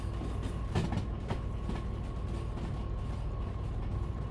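A big diesel locomotive in the railway game Derail Valley rumbles along with a steady low engine drone, light rhythmic clicking and faint metallic clatter, heard alone at moderate level.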